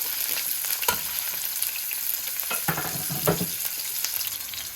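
Onions and green chilies frying in a pan with a steady sizzle, with a few louder stirring scrapes breaking through at moments; no talk.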